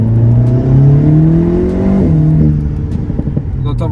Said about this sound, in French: On entend vraiment l'admission.